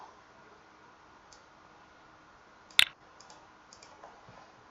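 A single sharp computer mouse click, close and crisp, stands out against a quiet background, with a few very faint ticks around it and no one talking.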